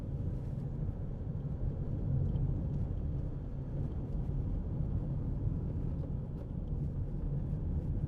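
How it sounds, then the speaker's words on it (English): Steady, low tyre roar from a 2008 Nissan X-Trail 2.0 dCi Trek 4WD driven over a rough road, heard as a constant faint rumble inside the cabin. "Just bit of tyre noise, This is a fairly rough road, so it does bring it out a little bit more"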